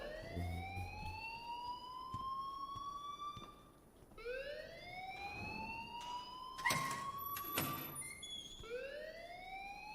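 An alarm in the video game Life Is Strange wails in repeated rising siren sweeps, each a few seconds long, loud and steady with a brief dip between cycles and a few sharp clicks.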